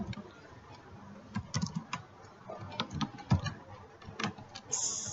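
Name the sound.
typing on a computer keyboard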